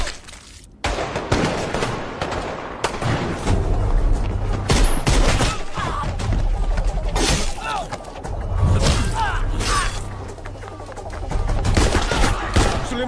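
An RDX explosion in an action movie, a loud blast and shattering crash followed by sustained booming debris and rumble under a dense, layered action soundtrack with scattered voices.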